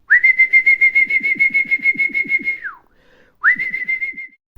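A person whistles a long steady note with a rapid fluttering pulse, pauses briefly, then whistles a shorter matching note, clear and close.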